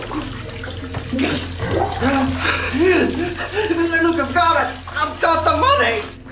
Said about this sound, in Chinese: 拧开水龙头